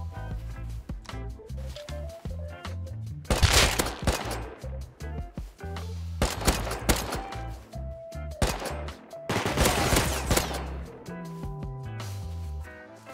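Gunfire in the video game Rust, bursts of loud shots that come in clusters, mixed with music and game sound. Firing is heaviest in the middle and later stretches.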